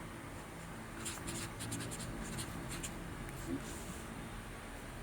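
A pen writes on paper, giving faint, close scratchy strokes in short irregular bursts against a quiet background. No one speaks.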